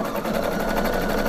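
A domestic sewing machine stitches an elastic edge on a sleeve hem, running in a steady, continuous whirring drone close up with no talk over it.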